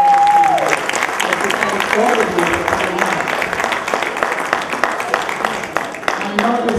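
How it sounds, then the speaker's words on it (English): Audience applause at an event, a dense, sustained clatter of many hands clapping at close range, with a voice speaking over it at the start. "So I want to give Ben Sanai a round of applause again"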